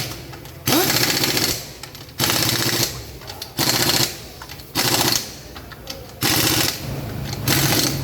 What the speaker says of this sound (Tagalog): Kaya, kailangan natin gamitan ng impact wrench.